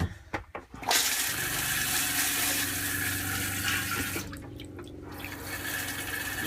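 Water rushes steadily into a Thetford RV toilet bowl after a repair to the supply line, a continuous close gushing that thins out briefly toward the end, with a few clunks at the start.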